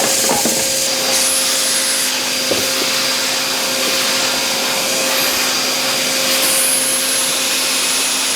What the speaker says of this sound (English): it made really easy work of those rocks that were just about the same diameter as the metal tubing here